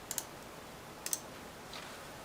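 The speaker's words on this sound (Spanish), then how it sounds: "entonces hago clic ahí" A computer mouse clicks while working in Excel: two quick paired clicks, a second pair about a second later, then a softer faint tick, close and crisp against a quiet room.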